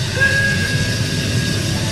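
A steady steam whistle sounds with a thin, sustained tone over a constant hiss, holding fairly loud throughout with no speech.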